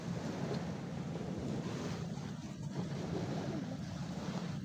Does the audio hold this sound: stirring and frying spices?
no